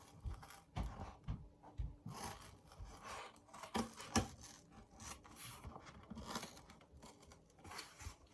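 Scissors cutting through cardboard, irregular rough crunching and rasping snips in quick bursts, close and fairly faint, with no talking.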